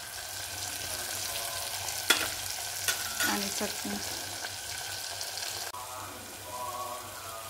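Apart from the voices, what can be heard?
tempering with turmeric and chili powder frying in a pan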